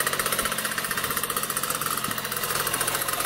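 A rare motorcycle engine running close by, with a steady rapid chugging beat and mechanical knocking that holds even throughout.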